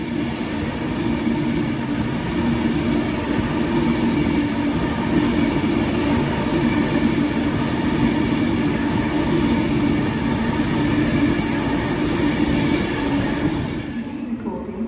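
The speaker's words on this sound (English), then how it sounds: "about to pass through is going the other way. It's going to be another Avanti West Coast service from London Euston to Carlisle" An Avanti West Coast passenger train runs from London Euston to Carlisle through Stoke-on-Trent station. Its loud, steady rumble of rolling wagons lasts throughout and drops away sharply at the very end, with no voices.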